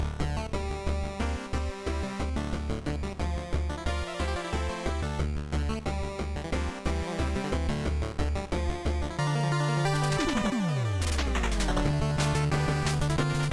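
A dense, buzzy chiptune track in Game Boy style, built from shaped waveform envelopes, with pulsing square-wave bass and chirpy leads, then swooping pitch-bend sweeps near the end, loud and unaccompanied by voices.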